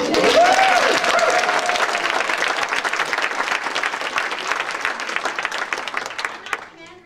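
A university lecture-hall audience applauds a democracy speech, with sustained dense clapping that starts loud, holds for several seconds, then thins out and stops, while a voice briefly speaks over the start.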